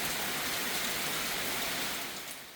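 Heavy tropical rain pours down on Phu Quoc island during the rainy season, a dense, steady roar of water that holds loud throughout and eases slightly near the end.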